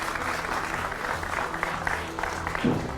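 A television studio audience on a debate show gives steady applause to welcome guests, a continuous moderate clapping with a murmur of crowd beneath it.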